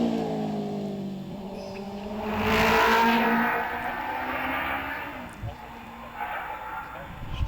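A Caterham race car accelerates up a hillclimb course, its engine note swelling to a loud peak as it passes close, then fading into the distance while a voice talks throughout.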